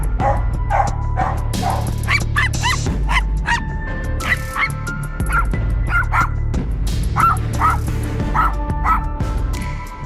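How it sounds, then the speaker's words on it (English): A small dog barks repeatedly in sharp, high yips with a few whimpers between them, loud and close, over a steady background hum. "a small dog's brave bark saved its owner from danger"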